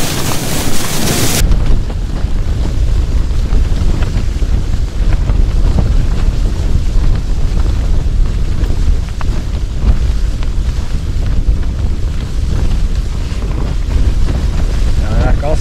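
Strong wind buffets the microphone throughout on a snowy frozen lake in the wilderness, a steady loud roar and rumble that follows a brief burst at the start.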